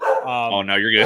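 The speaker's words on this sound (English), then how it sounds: "pardon the dog" A dog barks and whines in the background of a podcast conversation, its yips mixing closely with a man's speech throughout.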